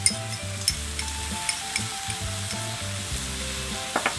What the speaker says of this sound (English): Now that our onions are softened